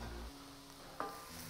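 Dry mushrooms frying in a pan with a faint, steady sizzle, broken by a couple of soft clinks or stirring knocks near the end.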